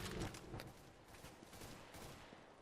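Rapid bursts of gunfire from the video game Counter-Strike: Global Offensive, a busy cluster of shots loudest in the first half-second, then a steady stream of fainter reports and game noise.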